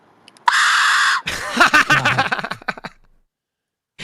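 An Aztec-style death whistle is blown once outdoors, a loud, harsh shriek lasting under a second, followed by a burst of voices laughing and exclaiming nearby.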